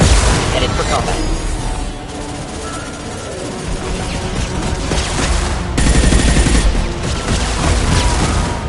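Gunfire in Mass Effect 2 aboard the Collector vessel: dense, continuous shooting and booms throughout, loud and close, mixed with voices talking.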